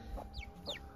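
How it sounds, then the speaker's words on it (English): Chickens clucking close by in a brief burst, a few short rising squawks and low clucks in quick succession. "And then here are the chickens"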